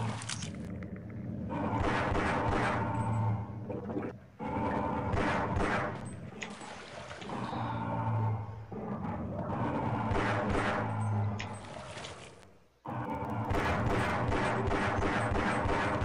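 Pistol fire in Half-Life: Opposing Force, loud repeated shots popping over a dense, busy game mix of impacts and crashes that runs almost continuously, with brief dips near four and thirteen seconds.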